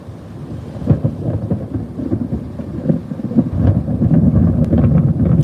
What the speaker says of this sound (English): Here comes another thunder.